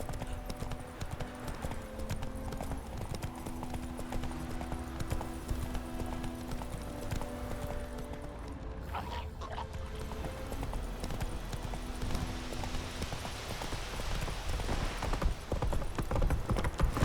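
Roach, Geralt's horse in The Witcher 3, gallops in a steady, loud clip-clop of hooves that runs throughout, with faint background voices and a sustained tonal hum underneath.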